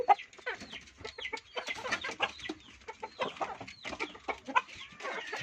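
Backyard chickens in a rural yard waiting for feed, clucking repeatedly in short overlapping calls at close to mid distance, with soft pecking taps beneath.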